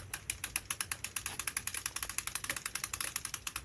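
Rapid, steady clicking of a crossbow's crank ratchet as a Killer Instinct Lethal 405 with a Dead Silent Crank is wound, about ten clicks per second, close and alone.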